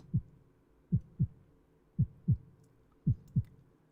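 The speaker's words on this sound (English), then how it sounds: "So you'll hear a heartbeat." A heartbeat alert from a video game attack warning, heard as three paired low thumps at a steady rhythm, loud and clear against a quiet background with no talk.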